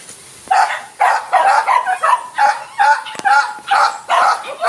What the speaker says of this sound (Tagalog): Yan po, aso namin maligalig.